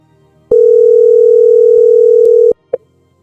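One steady telephone ringing tone sounds loud and clean for about two seconds, then stops, followed by a brief short beep on the line.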